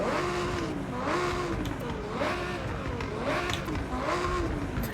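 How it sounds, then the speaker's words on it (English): A stock Lamborghini Huracan Evo Spyder engine in a racing video game, with a steady, loud engine note rising and falling in repeated revving sweeps and no talk over it. "I do love the stock engine note,"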